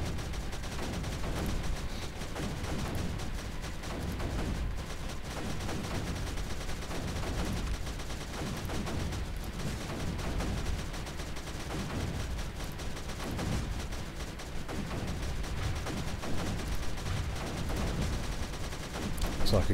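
Mortar fire in the strategy game Creeper World, a dense, continuous barrage of booming shots and explosions that stays loud and steady throughout, with no clear gaps and no talk.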